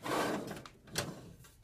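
A small cosmetics drawer in a bedroom slides open or shut, with a rumbling slide followed by a brief knock, close and moderately loud.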